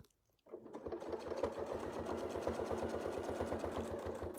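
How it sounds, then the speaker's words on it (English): Sewing machine stitching a quilt sandwich, starting after a brief silence and then running steadily with a fast, even mechanical chatter, close and with no talking. "I want to sew this way, so I'm moving the fabric that way"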